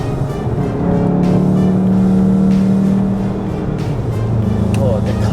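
A VW Golf R-Line driven on Sepang Circuit gives a steady, loud in-cabin engine drone with shifting pitch as it accelerates, while a driver talks over it.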